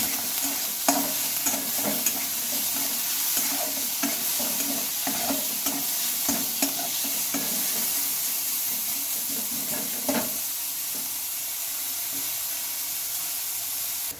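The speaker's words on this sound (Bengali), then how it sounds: "সুন্দরভাবে হালকা করে ভেজে নিয়েছি" A flour mixture seasoned with salt and turmeric fries in a pan under constant close sizzling, with repeated scraping stirs and clinks throughout, and no voices.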